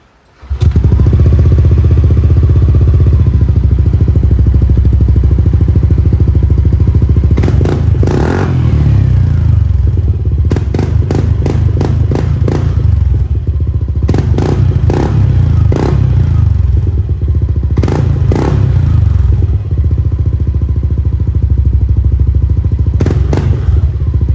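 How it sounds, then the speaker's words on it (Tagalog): A Yamaha NMAX V2 scooter engine runs loud and close for a sound check, idling with a steady low drone and revving in repeated bursts, with some clattering and thumps, and no one speaking. "Tingnan natin kung kamusta na ba yung andar ngayon nitong ating NMAX version 2"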